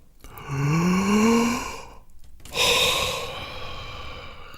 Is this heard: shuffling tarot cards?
no